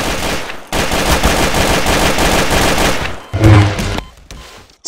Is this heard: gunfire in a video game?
yes